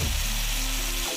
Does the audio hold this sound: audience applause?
no